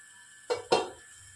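Lid lifted off a pot of steamed bottle gourd: two short metallic clinks about a quarter second apart, close and moderately loud, with quiet kitchen background otherwise.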